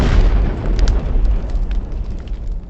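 Oil tanks at Karachi port blow up in a huge explosion, a loud deep roar that rumbles on and slowly decays with crackling bursts over nearly three seconds.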